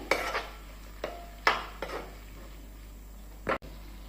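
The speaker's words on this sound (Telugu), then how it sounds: "ఇలా కలుపుకోవాలి." Tomato and potato curry stirred in a pan: a few separate metal spoon scrapes and clinks against the pan over a faint low hum, close and spaced apart, no talk.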